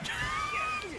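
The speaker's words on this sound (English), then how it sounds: "I forgot they scream" Enemies in the video game NieR: Automata let out a continuous high, wavering synthetic scream that runs steadily through the whole moment at moderate loudness.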